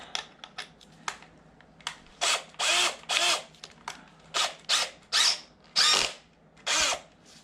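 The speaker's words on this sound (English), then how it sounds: "Got the drill." An electric drill whirs in repeated short bursts, starting and stopping in an uneven rhythm, close and fairly loud with no talking.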